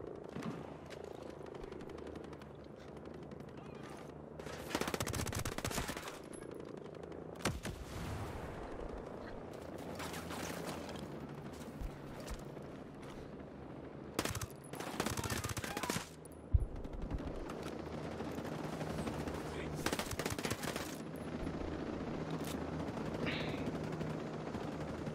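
Rapid machine gun fire in a first-person shooter video game, heard as several loud, separate bursts over a steady background rumble of battle.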